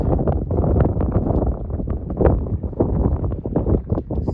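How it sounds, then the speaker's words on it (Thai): Wind blowing across the microphone beside a lake at Kungshamn, Sweden, loud buffeting gusts that rise and fall unevenly throughout with no one speaking. "ฟังเสียงลม"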